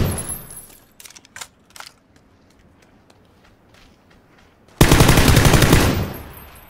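Gunfire in the PUBG video game: a few scattered shots and light clicks, then a loud sustained burst of rapid automatic fire close by, with no talking over it.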